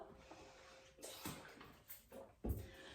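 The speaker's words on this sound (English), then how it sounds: "I'm going to take a sneaky slurp of water." Someone takes a quiet slurp of water during an at-home Pilates workout, a few soft sips and swallowing noises breaking a near-silent room.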